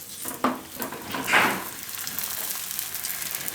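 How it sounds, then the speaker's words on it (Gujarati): A sesame paratha roasts on a pan over a low flame in a home kitchen, giving a soft steady sizzle with a couple of brief scraping turns near the start and no talk. "ધીમો ગેસ રાખીને એને આપણે બે બાજુ શેકી લેવાનું"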